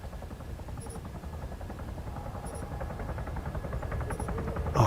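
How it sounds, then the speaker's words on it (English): A helicopter in the ArmA 3 Contact video game drones as a steady low rotor rumble with a faint buzz, gradually growing louder as it nears. "Oh no. There's a helo."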